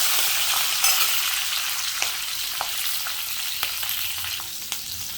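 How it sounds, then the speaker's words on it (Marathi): Green chilies frying in a little oil for dahi mirchi, a steady bright sizzle with occasional soft pops and stirring ticks, close and continuous, with no talking. "आता मिरच्या थोड्या तेलामध्ये मी परतून घेते"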